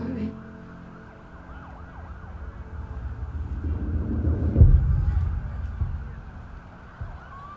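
Wailing emergency sirens at the end of a song, their pitch sweeping up and down over a deep, rumbling music bed that swells to a heavy hit before fading.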